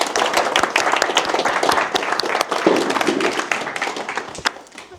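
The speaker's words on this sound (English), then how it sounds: "All right, big round of applause for Miguel." An audience at an evening tech talk session applauds a speaker, dense, close clapping that holds steady for several seconds before tapering off at the end.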